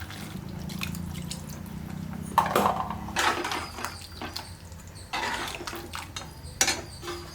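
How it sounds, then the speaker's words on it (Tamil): Water is poured into a mixer jar holding ground masala for a country chicken curry, with intermittent trickling, drips and light clinks of the jar, near and fairly quiet, with no talk. "அதில் தண்ணி கொஞ்சம் ஊற்றிடலாம்."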